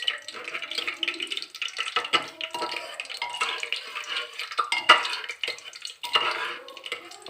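Whole spices, cinnamon and cardamom, crackle and splutter in a hot pan of oil while mutton curry is being cooked, a busy close sizzle with scattered pops and light clinks of a stirring spoon against the pan.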